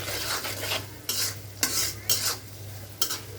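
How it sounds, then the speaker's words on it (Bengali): Cauliflower fries in a pan with salt, while a spoon stirs and scrapes in several short, distinct strokes over a soft, steady sizzle, close by and with no talk. "এভাবে একটু ভাজা ভাজা করে নেব"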